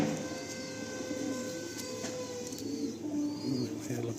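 Pigeons coo softly in a pigeon loft, a steady murmur of low calls layered over constant background hum, with a few brighter bird calls rising near the end.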